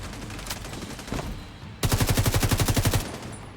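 An automated turret in The Division 2 fires a fast, even burst of about a dozen loud shots, preceded by a few scattered distant gunshots.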